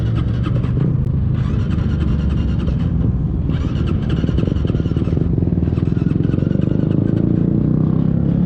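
A Honda Winner X or Yamaha Sniper 155 motorcycle engine idling loudly and close after a long struggle to start, a dense steady rumble with a faint repeating higher whine.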